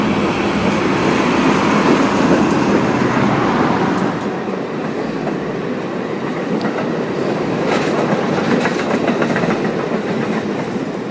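A Norfolk Southern freight train rumbles past close by in North Philadelphia, wheels clattering steadily over the rails, louder at first and then easing off, with no talking.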